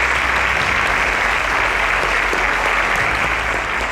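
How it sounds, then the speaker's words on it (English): Dense, steady applause from a studio audience at a quiz show, loud and continuous for a few seconds with no pause or talk. "A round of applause for Anthony."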